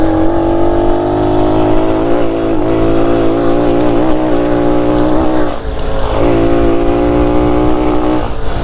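A 1969 Honda Trail CT90 motorcycle rides in fourth gear in low range, its small engine a loud, steady, close buzzing drone with slight pitch wobbles as it holds speed.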